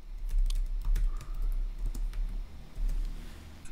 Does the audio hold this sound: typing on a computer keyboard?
yes